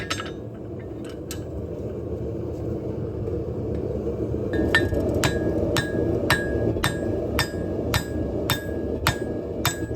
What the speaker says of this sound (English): Yeah, I'm going back to the lighter hammer.